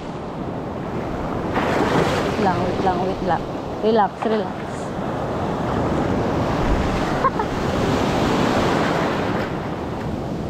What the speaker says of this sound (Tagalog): Grabe talaga yung alon.